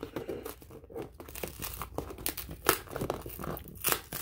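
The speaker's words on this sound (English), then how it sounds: "Just have to peel this." Tape peels and tears off the plastic packaging of a Jurassic World Dominion Thrash and Devour Tyrannosaurus Rex toy, with close crinkling and ripping in uneven bursts, no talking.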